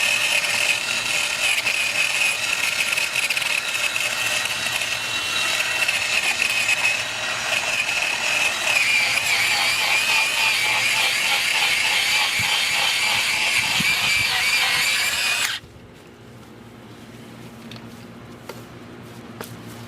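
A Sun Joe SJ WD24V ion 24-volt cordless cultivator tiller weeding soil near a tree, running loud and steady with a whirring, grinding churn for about fifteen seconds before cutting off to near quiet.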